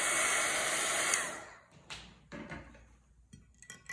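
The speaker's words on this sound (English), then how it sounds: "drying it again" A hair dryer blows steadily on a watercolor painting for about a second, then cuts off, leaving faint scattered clicks and handling noises of brushes and paper.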